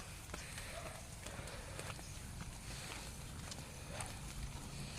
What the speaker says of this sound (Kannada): ನೋಡಿ ಜಾನುವಾರನ್ನು ಹೇಳ್ಕೊಂಡು ಓಡ್ತಾ ಇದೆ ಕರು